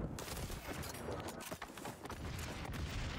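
Grenade blasts and gunfire in a Call of Duty style shooter game, a dense, loud wash of booms and shots continuing throughout with no clear pauses.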